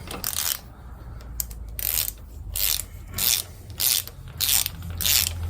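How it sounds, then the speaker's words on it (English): Ratchet wrench clicking in short repeated bursts while snugging a bolt on the front strut of a 2002 Acura TL Type S, about seven close, crisp strokes with brief pauses between them. "So now we're just gonna snug this bolt up."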